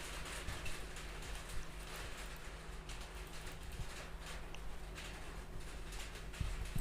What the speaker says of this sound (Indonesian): Hujan gede, akhirnya bener-bener gak bisa denger apa-apa.